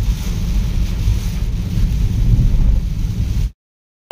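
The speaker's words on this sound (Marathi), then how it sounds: "खूप हेवी रेनफॉल आहे" Heavy monsoon rain and strong wind in Palghar: a loud, dense roar with gusty buffeting close to the microphone, steady for a few seconds before it cuts off abruptly.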